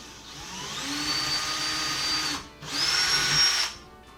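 A power drill whines straight through wood in two sustained runs with a brief pause between, close and loud, its pitch rising slightly as it spins, while installing wall cabinets.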